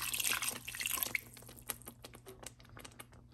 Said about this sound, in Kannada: ಇನ್ನು ಸ್ವಲ್ಪ ನೀರು ನಾನು ಹಾಕ್ತಾಯಿದ್ದೀನಿ